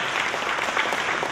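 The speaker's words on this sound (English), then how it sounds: "So give her a round of applause for that." A crowd at a county Lincoln Days political gathering breaks into brief, dense applause for the speaker's wife, a short burst of steady clapping.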